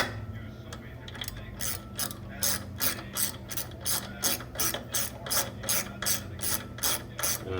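A ratchet tightening the crank arm bolt on an indoor cycle, a close, crisp run of rapid clicking strokes repeating in an even rhythm, with no talk.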